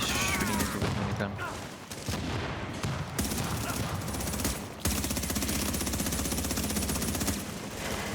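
Sustained minigun fire in a shooting game, a loud, dense, rapid stream of shots that runs almost the whole time with brief breaks, and voices talking faintly underneath.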